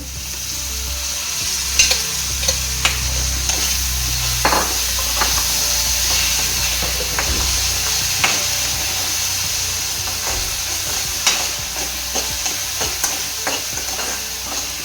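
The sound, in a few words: tomatoes added to pan and frying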